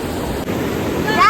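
Strongly flowing water at a waterfall tourist spot makes a loud, steady rushing roar close to the microphone, with some wind buffeting.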